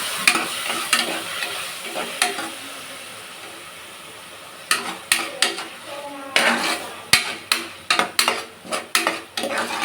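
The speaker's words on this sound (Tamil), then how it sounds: "இஞ்சி பூண்டு பேஸ்ட்டு போட்டுக்கலாங்க நல்லா மிக்ஸ் பண்ணி விட்டுக்கலாம்" Ginger garlic paste with onion and tomato is stir-fried in a pan for goat intestine kulambu; a spoon scrapes and clanks against the pan in close, repeated rhythmic strokes over a light sizzle.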